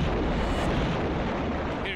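Artillery fire on the Ukraine war front, a dense continuous roar of heavy booming that stays loud and thick for the whole stretch.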